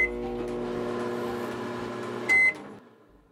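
Minecraft microwave smelting a diamond: a steady electric hum runs for over two seconds, ending in a short bright beep before fading into quiet.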